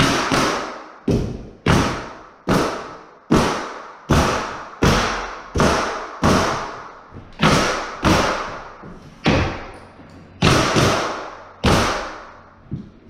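A hammer drives nails into the bottom of a split jamb door, giving about sixteen sharp, loud thuds close by. They fall at a steady pace of roughly one per second, each ringing briefly before the next, with no talking.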